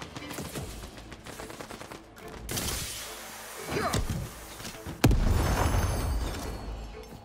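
Sniper rifle shots ring out in a video game, a run of rapid gunfire followed by a few heavy, sharp blasts with ringing tails amid game effects, loud and close.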